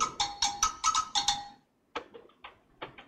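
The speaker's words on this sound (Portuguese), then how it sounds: "Esse é um som mais agudo, do agogô." High-pitched agogô samba bell struck in a quick run of bright metallic tones, then a few softer, duller taps after a short pause, close and without talk.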